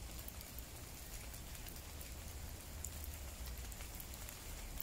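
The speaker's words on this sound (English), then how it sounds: "So I can hear the rain falling on the leaves of the trees." Rain falling on tree leaves outdoors, a soft continuous patter and hiss with scattered drips, fairly faint and steady throughout, with no voices.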